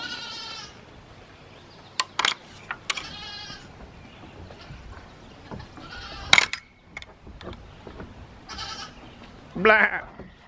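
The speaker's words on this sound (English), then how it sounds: "Oh man, the goats!" Several goats bleat in short, wavering calls scattered through the clip, some close and loud, with light background noise and a few sharp knocks.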